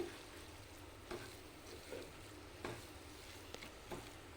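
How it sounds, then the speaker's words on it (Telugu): A coconut and jaggery mixture cooks in a pan while it is stirred, a low continuous bubbling sizzle with soft periodic scrapes and taps of the spoon, close and quiet. "ఒక నాలుగైదు నిమిషాల వరకు ఇలా కలుపుకుంటూ ఉడికించుకోవాలి"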